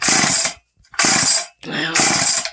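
A 1973 vintage chainsaw is fired up for the first time, its loud engine roaring in three close bursts separated by brief gaps of near silence.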